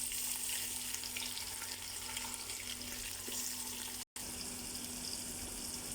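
Tomato, ginger and garlic frying in a pan, a steady broadband sizzle that runs without pause for about four seconds, cuts out briefly, then comes back at the same strength. No talk is heard over it.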